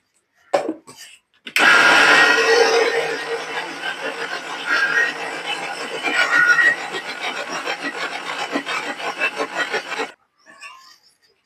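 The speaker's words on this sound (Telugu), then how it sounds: "ఇది కూడా వేసేస్తాం మిక్సీకి." A mixer grinder whirs loudly with a coarse grinding rasp for several seconds, then stops; brief clatter before and after.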